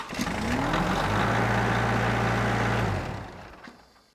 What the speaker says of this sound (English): After you've started your engine, move over and throttle the engine up